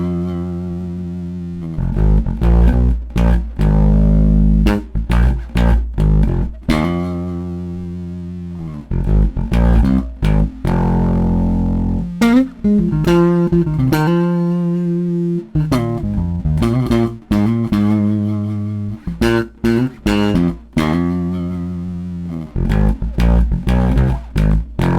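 Distorted electric guitar plays the galloping intro riff of a song, loud and close, with choppy muted chugs and sustained chords broken by sharp rhythmic stops.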